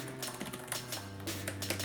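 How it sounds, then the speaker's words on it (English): Fast clicky typing on a Zagg Slim Book Go iPad keyboard, a run of sharp, close keystrokes in an irregular rhythm with a low background hum. "I really like this keyboard. Like, I like how clicky it is."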